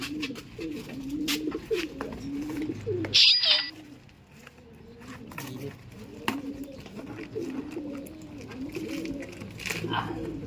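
Pigeons coo steadily in soft repeated rolling calls, close by, with a brief flutter of wings partway through.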